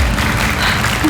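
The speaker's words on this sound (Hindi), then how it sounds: "जोरदार तालियों के बीच उनका स्वागत करते हैं।" Loud, dense applause from an audience welcoming a mother on stage in a TV drama scene, a short steady burst of clapping with low rumble beneath.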